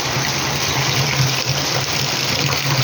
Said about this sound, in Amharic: ሮቴ እየሞላ ነው እንግዲህ